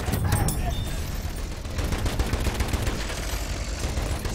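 Rapid machine gun fire in Battlefield 1, sustained bursts of rattling shots mixed with distant battlefield gunfire, loud and continuous throughout.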